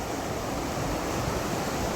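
Narmada river flowing through forest along a hillside path, a steady broadband rushing of water heard close and continuous, with no voices.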